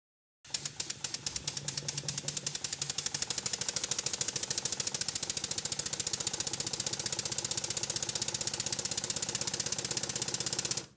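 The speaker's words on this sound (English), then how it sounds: "As you can see the engine runs okay" A Stuart 7A model steam engine running on compressed air chugs steadily with rapid, even mechanical clicks and puffs, close and continuous, gradually settling into a faster rhythm.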